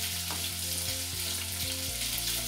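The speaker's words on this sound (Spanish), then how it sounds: "Primero sofreímos la carne" Ground meat sizzling in hot oil in a pan, browned plain for an eggplant lasagna; a steady, dense crackle runs throughout over soft background music.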